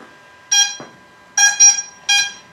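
Three sharp electronic beep bursts from the ESCs of a DJI drone sound close and loud, each a bright multi-tone chirp, separated by short silences.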